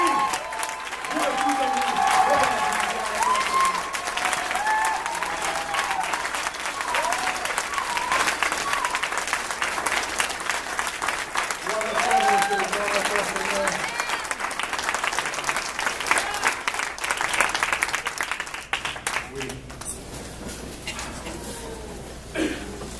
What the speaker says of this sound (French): qu'on se lève et qu'on acclame le Seigneur comme on le fait au début de la célébration